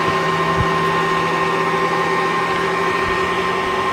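An air popper roasting coffee beans runs with a steady, loud whirring drone and constant motor hum, the beans tumbling in the hot air stream with no pauses.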